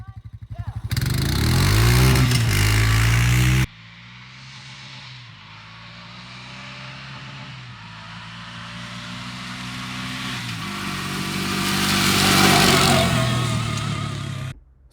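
Gas-powered and electric-converted Honda Rancher ATVs racing side by side, a loud close engine revving and shifting at first, then a quieter hum building to a rising roar as the machines pass and fade away.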